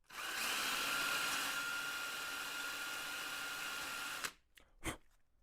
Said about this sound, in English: Grab our bigger drill.